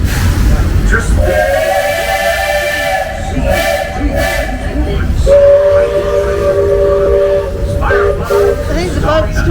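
A steam paddle boat whistle and a train whistle at Magic Kingdom call back and forth, long loud tonal blasts one after another over a busy crowd murmur with voices nearby.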